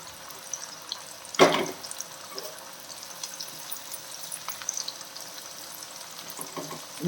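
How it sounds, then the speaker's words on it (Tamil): Mango pieces go into hot oil for mango pickle with one loud splashing sizzle burst, then settling into a faint, steady crackling fry nearby, with no one speaking. "எண்ணெய் நல்லா சூடாகிடுச்சு. கொஞ்சம் மாங்காய் போட்டு கொடுக்கலாம்."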